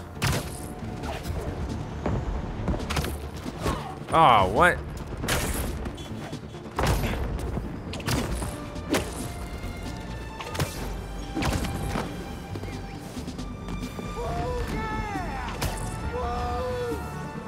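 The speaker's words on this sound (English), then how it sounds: "Yeah, they're going crazy with the fireworks." Fireworks in the Spider-Man 2 video game burst in a scattered series of booms and crackling thuds, some loud and near, others fainter, while a person talks over the game sound.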